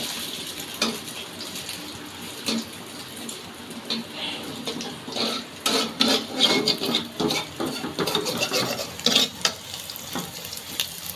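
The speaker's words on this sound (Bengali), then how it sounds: "এখন ডিমও ভেজে নিলাম" An egg fries in a pan at home for a rice-and-tomato-mash dinner, a close crackling sizzle mixed with clattering spatula scrapes and handling knocks that grow busier and louder toward the end, with no talking.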